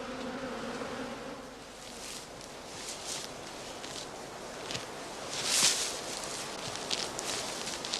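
Bees flying around basket hive entrances outdoors, a faint continuous buzzing with passing drones and small rustles, distant and soft.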